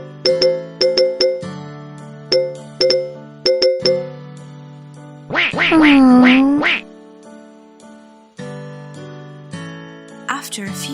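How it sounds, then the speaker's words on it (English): Cartoon ducks quack in a children's story, a few bursts of quacking mixed with chiming ding-dong jingles and a drawn-out wavering vocal call in the middle, all fairly loud and close. "Grandfather Duck heard all the quacking and went to see Mother Duck."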